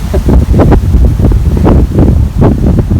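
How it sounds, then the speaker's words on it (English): Strong gusty wind on a river trail in Stephenville, Texas, buffeting the microphone with loud, rumbling, uneven blasts throughout, with no speech. "Boy, it is so windy today. Very windy."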